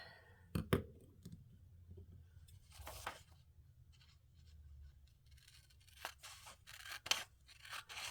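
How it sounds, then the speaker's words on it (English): Scissors snip through a paper template in a few quick, crisp cuts, with faint rustling and handling noises in between. "I'll cut it out, scissors."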